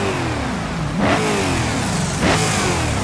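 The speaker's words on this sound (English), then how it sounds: "Listen to this engine." A 4.5-litre Gavril V8 swapped into a Blackpool Superlite in the BeamNG driving game revs hard twice, each throttle blip rising to a sharp snarling peak over a rumbling idle, loud and close with no talking.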